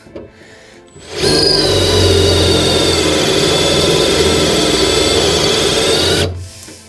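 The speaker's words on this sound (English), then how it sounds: "So we just drill them out." A power drill on single speed drills out holes through a metal plate on a Mini Cooper, whining steadily at close range for about five seconds, starting abruptly and cutting off, with a sustained grinding tone.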